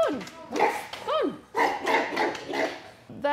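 A riled-up guard dog barks and yelps in sharp bursts with whining rising and falling between them, close and loud, and a person talks over the barking.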